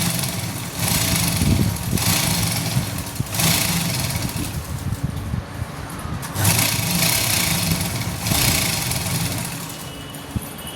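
A sewing machine runs in bursts while stitching a double seam on a suit, its steady mechanical whir and rapid needle chatter rising and pausing several times, close and fairly loud with no talking.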